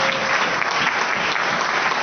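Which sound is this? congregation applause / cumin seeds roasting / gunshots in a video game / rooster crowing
congregation applause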